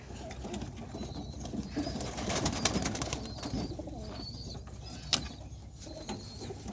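Racing pigeons coo in low, throaty bursts close at hand, with rustling and scattered clicks in a loft, and no voices.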